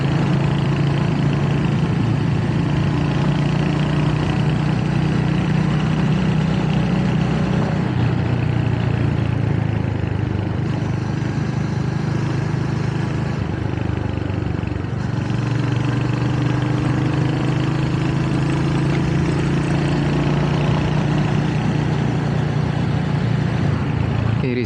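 A Royal Enfield Hunter 350 motorcycle engine drones steadily and close up throughout a sunset ride in Australia, a continuous low throb with slight shifts in pitch as the bike moves, no talk over it.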